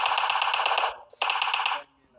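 Loud, close bursts of rapid automatic gunfire in PUBG on the Miramar desert map. Two sustained volleys are separated by a brief pause, and the second cuts off into near silence.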